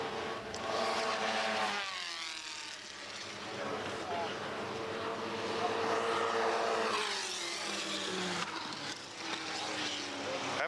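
A big 8.3-litre Chevy race car engine winds up around the back of a track at an NZFMR Ferrari Festival meeting, its roaring pitch sweeping up and down, fairly distant, beneath a commentator talking throughout.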